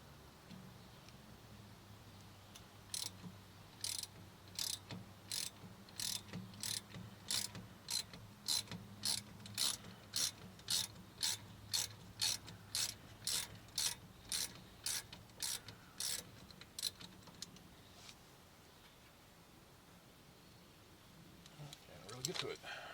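A hand ratchet loosens Torx T30 screws on the rear brakes of a 2019 Honda Odyssey, giving a long, even run of about two dozen crisp, close clicks that stops, then a little clatter follows.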